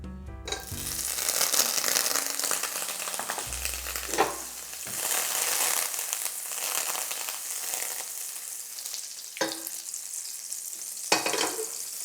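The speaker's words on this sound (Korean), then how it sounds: "중불 정도로 예열된 프라이팬에 버터를 넣어서 먼저 녹여주도록 할게요" Butter melts and sizzles in a frying pan preheated over medium heat, making a steady close hiss broken by a few scraping and knocking sounds, with no voices.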